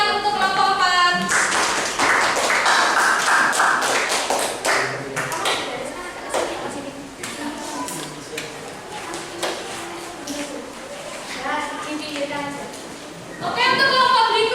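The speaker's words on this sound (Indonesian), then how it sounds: "berikan tepuk tangan untuk kelompok 4" Students in a classroom applaud a presenting group, with dense, fairly loud clapping through the middle section and voices talking before and after it.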